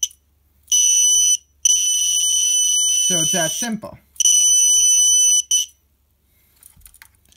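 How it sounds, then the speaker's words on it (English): A Snap Circuits motion detector alarm horn blares in loud, shrill electronic bursts, stopping and restarting several times, with someone speaking briefly in a gap between blasts. "the horn will sound and hopefully it will deter them"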